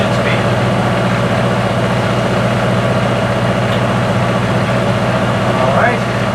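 A classic powerboat's engine runs steadily at low cruising speed, heard from inside the upper cabin as a constant, loud, low droning rumble with an even hum and no change throughout.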